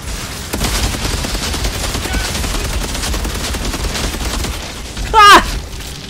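Rapid automatic gunfire rattles in the Outriders video game, fast bursts running under a busy in-game soundscape, with a short voiced outburst near the end.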